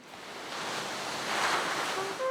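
Ocean waves near the Phare des Baleines lighthouse: a broad, steady hiss of surf that swells to a fuller wash midway, with a few faint tonal notes creeping in at the end.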